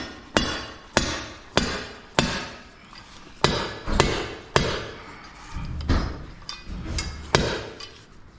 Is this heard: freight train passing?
no